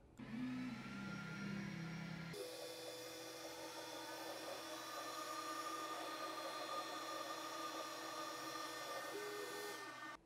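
An xTool S1 40W laser engraver runs steadily, a continuous mechanical whir with a shift in tone early on, then an even drone of fan and motion noise for several seconds.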